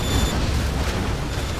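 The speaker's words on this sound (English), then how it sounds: "Oh wow, that was a big boom." A Scud Storm missile strike explodes in the real-time strategy game Command & Conquer: Generals Zero Hour, a loud, deep rumbling boom that roars continuously and slowly fades, with no voices over it.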